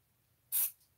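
A short aerosol burst of contact cleaner is squirted onto the bass and treble controls of a mixer: one brief, sharp hiss lasting about a fifth of a second, with a faint tail, over a quiet background.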